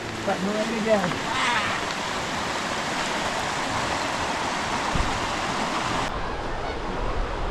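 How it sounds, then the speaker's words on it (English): Rain falls steadily outdoors, a broad constant wash of hiss and patter with some splashing, and a brief shift in texture near the end. "Oh, it's raining."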